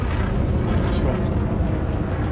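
Spaceship engine at full throttle in Elite Dangerous: Odyssey, a loud steady roar with deep rumbling low end and a faint airy whoosh above it, continuous and close throughout.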